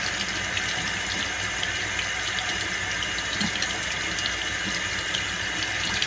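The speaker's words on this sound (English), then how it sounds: "See how the water's just flowing in?" Tap water flows steadily into a baby bottle warmer's reservoir, a continuous loud gushing stream with no talk over it.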